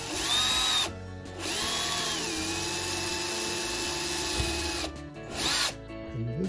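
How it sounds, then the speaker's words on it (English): A power drill whines loudly in steady runs, pausing briefly twice, its pitch sagging slightly as the bit bores into a fan body. "I'm gonna go ahead and send a drill bit to the right of this"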